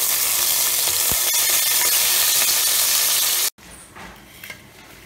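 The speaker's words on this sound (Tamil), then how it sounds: "இப்போ வந்து எண்ணெய் சூடாயிடுச்சு, நம்ம ஏலக்காய் போட்டுக்கிறோங்க." Cardamom pods crackle in hot oil for a mushroom biryani, a loud bright sizzle that cuts off abruptly partway through, leaving a faint quiet background with a small clink.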